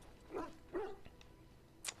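A dog in the video game Dragon Age Origins gives two short, faint barks close together, then a softer yip, over low game ambience.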